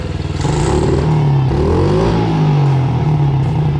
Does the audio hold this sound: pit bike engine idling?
yes